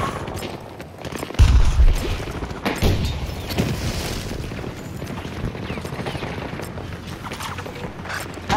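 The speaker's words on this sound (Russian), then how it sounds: "Граната пошла!" A grenade explodes in the first-person shooter Battlefield 2042: a heavy low boom lands suddenly, a second thud follows about a second later, then dense battlefield rumble and distant gunfire roll on beneath.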